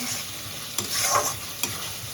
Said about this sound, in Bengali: এখানে দেখো ভালোভাবে কষিয়ে নিচ্ছি